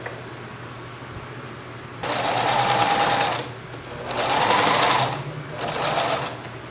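A sewing machine stitches the seams of a small fabric wallet in three close, steady whirring bursts of rapid needle clatter, separated by short pauses.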